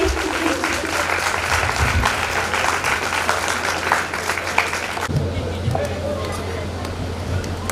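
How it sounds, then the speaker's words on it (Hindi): An audience applauds the performers of a women's group dance-drama stage show, with a sustained, dense clatter of many hands clapping. The sound is steady and moderately close, and it briefly drops in level partway through. "एक बार फिर से सभी कलाकारों के लिए तालियां।"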